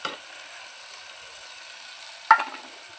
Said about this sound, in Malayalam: ഇനി നമുക്ക് വെളുത്തുള്ളി ഇഞ്ചിയും ചാച്ചത് ഇട്ട് കൊടുക്കാം